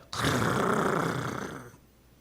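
A voice imitates a deep, rasping growl during a Sunday church sermon, one loud sustained rumble lasting over a second and a half before cutting off, with no other sound around it.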